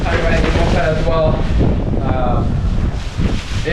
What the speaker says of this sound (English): it's raining, it's windy, and we chose one of the worst days to go on the moped